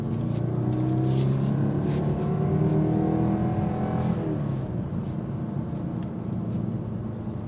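A 2025 BMW 430i Gran Coupe with the B48 turbocharged four-cylinder pulls away on the road, its engine note rising and sweeping through revs over a constant rumble, then easing into steady cruising with road noise.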